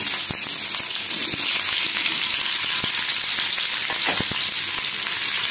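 Cauliflower and potato pieces fry in hot oil in a kadai, giving a steady, loud sizzle throughout with occasional sharp pops and crackles, close by and with no talking.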